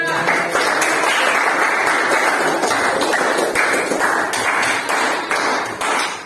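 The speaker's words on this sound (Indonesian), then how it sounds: "tepuk tangan untuk teman kita" A class of students applauds a classmate during a school lesson, steady mid-level clapping from a roomful of children with some sharper individual claps standing out throughout.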